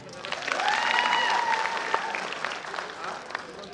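Crowd at a Gurung cultural program applauding a talented singer, a swelling burst of clapping that fades out over a few seconds, with cheering and voices heard throughout.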